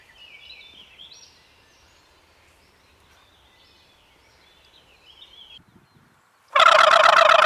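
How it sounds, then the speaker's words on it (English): A wild turkey gobbles once, a loud, sudden rattling call at the end of a quiet outdoor stretch with faint birdsong. "we just had that turkey gobbling there"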